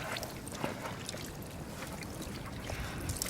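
Water splashing and dribbling from a limed hide being wrung out by hand into a bucket while rinsing it for parchment, a steady, faint wet trickle with small drips throughout, no voices.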